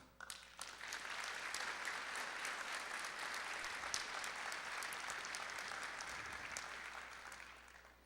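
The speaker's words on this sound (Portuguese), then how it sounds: "eu peço uma grande salva de palmas" Audience at a medal award ceremony applauding in a large hall, a sustained wash of clapping that starts abruptly after a moment and holds steady, distant and fairly soft.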